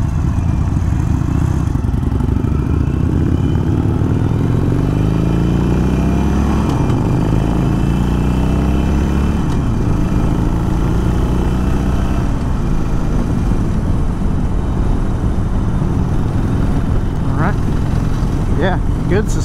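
Harley-Davidson Iron 883 motorcycle engine rumbling steadily while riding, a loud continuous low throb with rising and falling revs throughout, wind noise mixed in and a voice talking over it.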